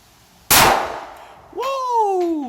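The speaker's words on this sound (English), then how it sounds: "I am going to shoot at that dueling tree all over again." A single sharp gunshot cracks out loud and close, then a steel plate on a dueling tree target rings with a bright, sustained metallic tone that bends in pitch as it spins.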